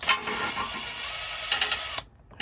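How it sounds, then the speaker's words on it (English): Rapid ratchet clicking from a wrench working a bolt loose on a 2018 Ford F250 Super Duty diesel transmission, a steady close buzz of pawl clicks that runs for about two seconds and then stops abruptly. "I'm trying to remove some bolt over here"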